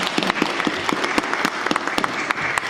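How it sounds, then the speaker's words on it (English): An audience at a public panel debate claps for the speakers, a short, fairly close burst of applause with distinct individual claps throughout. "A round of applause for them"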